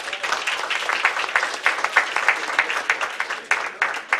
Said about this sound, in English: If we can have a round of applause for all of our candidates.